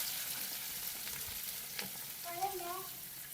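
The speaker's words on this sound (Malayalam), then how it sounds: "നമ്മൾ ഉള്ളി ഇട്ട് കൊടുക്കുന്നുണ്ട് കേട്ടോ" Onions fry in a hot pan with a steady, moderate sizzle and occasional stirring scrapes, heard close; a few faint tonal sounds appear in the background near the end, with no speech.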